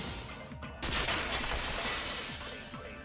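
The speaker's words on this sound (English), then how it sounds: "the girls heard the sound of the window shattering" Glass shatters abruptly in the Danganronpa 2: Goodbye Despair video game, a loud crash followed by a long, bright spray of tinkling shards that keeps ringing for a couple of seconds.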